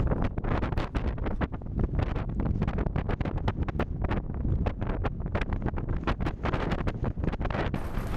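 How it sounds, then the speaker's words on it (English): Strong wind roars across an exposed fell hillside on Scar Crags, buffeting the microphone in a steady, loud, continuous rush with constant gusty rumble and no voices. "I wish that sun chased this wind away."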